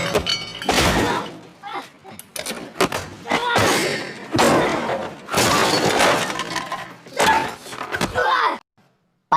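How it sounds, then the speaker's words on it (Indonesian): Truck window glass smashes during a film fight scene with triad gang members, sharp breaking and shattering crashes with heavy thuds amid loud fighting sounds and voices, ending abruptly in silence. "tiba-tiba para anggota triad menyerang dengan menghancurkan kaca truk milik Kai"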